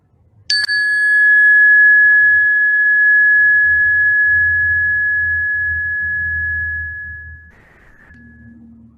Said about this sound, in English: the sound of the